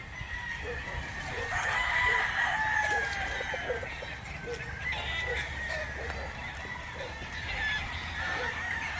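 Gamefowl roosters of the Kelso and Sweater breeds crow and cluck in a yard, several overlapping calls at middle distance over a steady background, with people talking.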